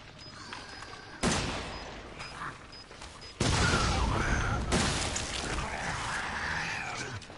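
A bomb goes off in the Resident Evil 7 video game as a sudden loud blast that cuts in sharply, with a second heavy burst that follows and then lingers in a rumbling, crackling tail.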